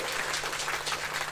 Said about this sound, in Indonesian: Yang mau tepuk tangan yang meriah buat Tuhan.